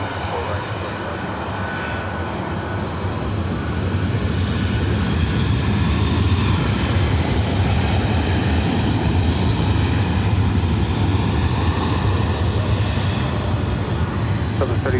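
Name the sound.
Southwest airliner taking off from LAX runway 24 right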